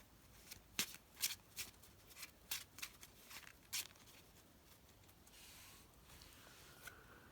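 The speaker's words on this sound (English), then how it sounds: "So I'll just quickly shuffle." Quiet, close riffling bursts of Yu-Gi-Oh trading cards being shuffled, several quick flurries in a row, then a softer rustle as they settle.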